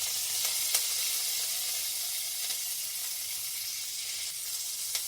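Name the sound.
green chillies and curry leaves frying for chutney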